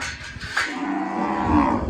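Cattle being herded on a day off give a close, loud, drawn-out moo lasting nearly two seconds, heard alone with no talk.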